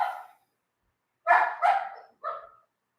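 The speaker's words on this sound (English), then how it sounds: "There are 3 dogs actually down there. They're all golden retrievers." Golden retrievers bark from down below, one sharp bark followed after a pause by a quick double bark and a final shorter one, fairly clear against silence.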